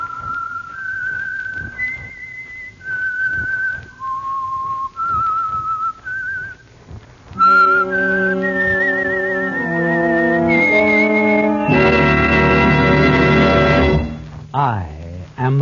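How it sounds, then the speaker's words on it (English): Whistled signature theme of the Signal Oil radio drama The Whistler: a lone, clear melodic whistle of rising and falling notes, then swelling orchestral music joins with sustained, loud chords. "the signal to listen for is this whistle that identifies the Signal Oil program"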